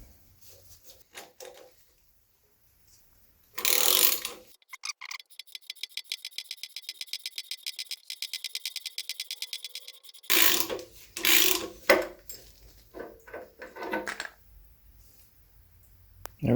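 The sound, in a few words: removing a harmonic balancer from a Pontiac V8 engine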